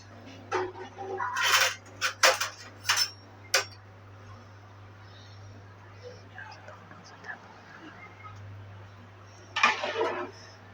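A spoon scrapes and clinks against a pot of vegetable dum biryani in a home kitchen, giving several sharp metallic knocks early on and a later burst, with faint whispery background sounds in between.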